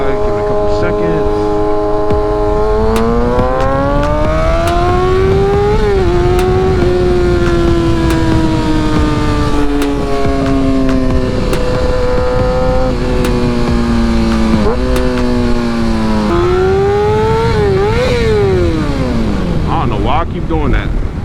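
Kawasaki ZX6R motorcycle ridden with the engine loud and close, repeatedly revving up through the gears with rising whines and brief drops between shifts, the high-pitched engine note dominating throughout with wind noise underneath.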